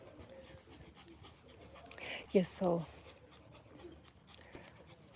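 A small, happy dog pants softly in a brief burst with faint whimpery tones. The sound is quiet and near, and a person speaks briefly over a low background hum.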